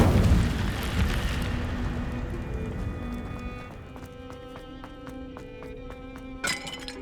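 The Incendio fire spell in Hogwarts Legacy erupts in a loud whooshing burst that fades over a few seconds into a lingering ringing tone. A run of quick, light crackling clicks follows, then one brief thump near the end.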